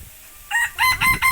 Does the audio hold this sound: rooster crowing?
yes